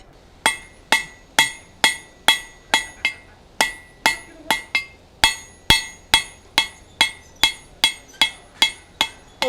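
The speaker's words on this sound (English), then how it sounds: "Over to the far side of the anvil when I'm hammering on the tip there, so my hammer doesn't run into the anvil." Hammer blows ring out on hot steel at an anvil as a blacksmith draws out a taper, about twenty sharp metallic strikes in a steady, even rhythm, close and clear with no talking.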